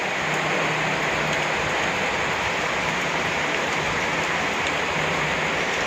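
Heavy rain pours steadily and densely outdoors around a home garden with flower pots, a continuous loud hiss of falling water with no break and no talking.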